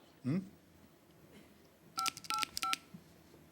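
A telephone being dialed, with a brief voice sound at the start, then four short distinct touch-tone beeps in quick succession, clear and close.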